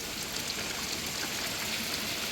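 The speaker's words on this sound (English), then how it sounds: "I hope the rain isn't too loud. I got a tin roof on my shop, so it's pouring down pretty hard" Heavy rain pours onto a shop's tin roof in a dense, steady hiss that fills the whole moment, constant and fairly loud, with no voices.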